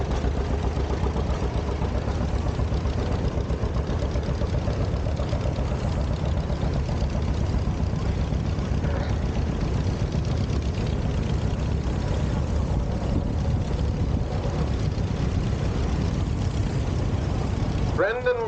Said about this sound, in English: Jeff Krause is driving a 1950 John Deere Model A, 38 horsepower.